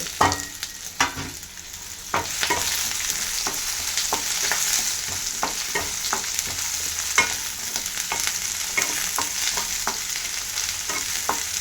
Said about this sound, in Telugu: ఇది కూడా బాగా ఫ్రై చేసుకున్నాను ఫ్రెండ్స్. ఎర్రగడ్డ అంతా బాగా వేగింది ఫ్రెండ్స్.